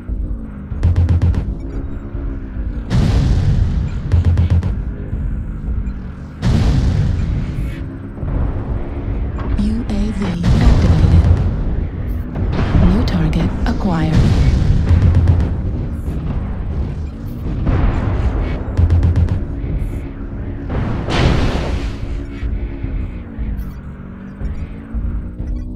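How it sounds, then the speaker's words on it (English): Artillery strike explosions in an online shooter video game: repeated heavy booms and blasts landing every few seconds across the stretch, loud and close, with gunfire-like bursts and occasional voices in between. "Artillery strike online."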